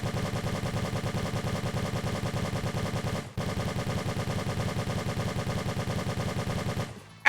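Sustained full-auto fire from an IM-1G assault rifle in One Armed Robber, loud and close, a steady rattling stream of shots with a momentary break partway before it resumes and then cuts off.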